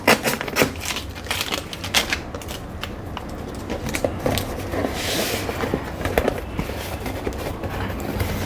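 Amazon Echo Dot 4th generation packaging being cut open, a dense run of close crunching, ripping and clicking from cardboard and plastic, steady and fairly loud throughout with no talking.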